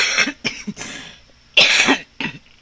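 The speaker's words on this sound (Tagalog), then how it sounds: "Pasensya na kayo, ubong-ubo pa eh." Someone with a lingering cough coughs several times in harsh, close bursts while cooking sinigang na bangus at home, with short pauses between fits.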